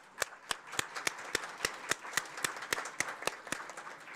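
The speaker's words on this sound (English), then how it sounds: "So let's give our board a rousing round of applause," A few people at a board of education meeting clapping for the board, sparse distinct claps in a fairly regular rhythm, faint and close-ish with no talking.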